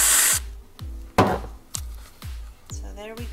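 A short burst of hissing spray as whipped cream comes from a can onto a mocha keto coffee, followed by several soft knocks.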